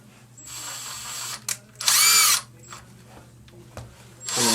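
A power drill pre-drills a hole through a glove's finger guard in close, loud bursts, with a short whir, a longer rising spin in the middle and another burst at the end, separated by quiet handling noises.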